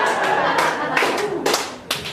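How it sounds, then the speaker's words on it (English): An audience at a stand-up comedy show breaks into brief applause, a short patter of claps with a few louder hand strikes standing out. "Those of you who applauded were right to do so."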